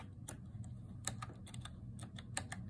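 Buttons pressed on a small AL5H door-lock keypad programmer (model AL5HDTU1) while entering a date: quick, uneven series of light plastic clicks, close and fairly faint, with no talk.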